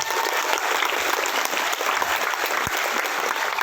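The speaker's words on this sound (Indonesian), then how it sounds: "Di tepuk tangan yang meriah untuk petugas upacara pagi hari ini." A crowd at a school flag ceremony assembly claps for the ceremony officers, a dense, steady round of applause lasting several seconds with no talking.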